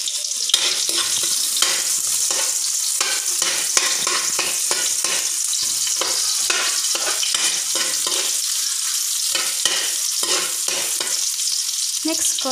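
Garlic and onion sizzling loudly in a hot pan while a utensil scrapes and stirs in quick, irregular strokes, continuous and close with no talking.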